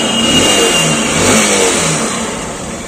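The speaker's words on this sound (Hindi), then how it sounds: "चाबी लगाते हैं, गाड़ी तो सेल्फ से बढ़िया स्टार्ट है।" A car engine, started on its self-starter, revs up loud and close, swelling and easing in a sustained mid-pitched roar for a few seconds without talk.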